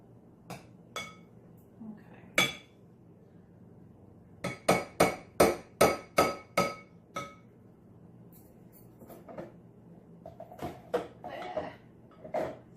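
A metal spoon clinks and taps against a bowl while scraping out cherry cheesecake dip: a few scattered strikes, then a quick run of sharp, ringing knocks, followed by softer scrapes.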